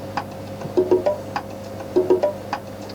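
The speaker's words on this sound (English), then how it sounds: "That's the conga pattern, gives it a good bit of movement" A programmed conga pattern from a 1990 remix, dry syncopated hand-drum tones repeating in a short cycle over a faint steady tone, close and without voices.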